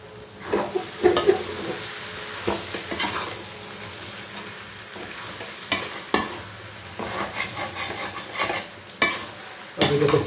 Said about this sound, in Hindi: अभी हमने चिकन भून चुका है, तो पक चुका है